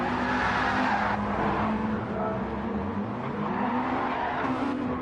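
A Mazda MX-5 race car spinning out in a Super Cup round in Austria, engine droning and tires squealing and skidding continuously, loud and close with the engine pitch wavering.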